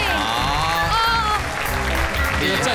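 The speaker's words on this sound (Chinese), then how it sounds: "疯狂掌声鼓励！ 要站起来鼓掌。" A television studio audience claps loudly and continuously, with voices calling out and cheering over the applause.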